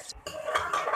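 A spoon clinks and scrapes against a pot while onions fry in oil for nihari, a brief close-up stir with light metallic knocks over a faint sizzle.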